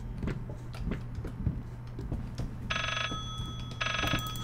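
In the horror game Layers of Fear, a telephone bell rings in two bursts that sound moderately far off, over low ambient hum and scattered clicks and footsteps.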